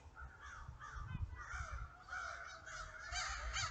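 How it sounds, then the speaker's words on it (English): Crows caw in a rapid series of harsh, overlapping calls, fairly close and clear above a low background rumble, with no one speaking. "Beautiful crows, man."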